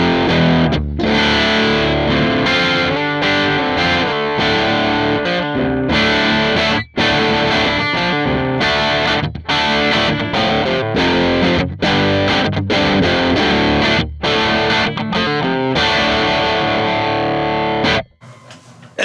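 Electric guitar with bridge humbucker, volume and tone fully up, played through a Mooer Fifty Fifty amp on its warm setting into a 1x12 cabinet, giving loud, heavily distorted continuous chords and riffs with brief pauses, no talk.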